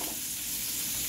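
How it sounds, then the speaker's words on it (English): Onions fry in a hot pan for a chicken lo mein, giving a loud, dense, continuous sizzle with no talk. "What I'm gonna do now is start with the veggies. So, we'll start with the onions."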